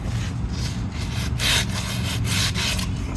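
Rust is scrubbed from the seal surface of a part on an 88-98 Chevy/GMC truck being converted to AWD, a close, continuous harsh rasping in repeated back-and-forth strokes, loud and alone.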